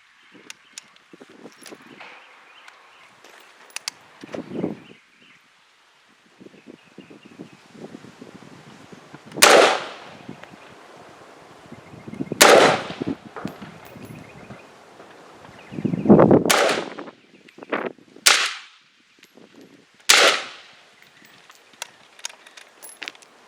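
Five sharp rifle shots from a Vector V93, an HK93 clone, fired outdoors at irregular intervals. Each report is loud and abrupt, with a short decay, over quiet rustling and handling noise between the shots.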